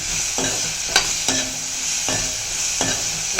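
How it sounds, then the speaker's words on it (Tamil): Sliced bitter gourd sauteing with salt in a pan crackles and sizzles continuously, while a spatula scrapes and stirs in a few evenly spaced strokes, up close and without voices. "உப்பு போட்டு இது நல்லா வதங்கட்டும்"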